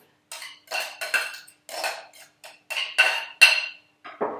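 Austrian cabbage salad being spooned into a serving dish, with a string of bright clinks and scrapes of a utensil against the dish in irregular bursts, close and fairly loud, with no talking.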